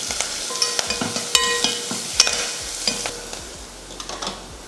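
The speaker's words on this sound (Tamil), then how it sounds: "இதை கலந்து விட்ருவோம்." Turmeric powder being stirred in a sizzling frying pan, with scraping and clinking of a utensil over a steady crackle of hot oil, no talking.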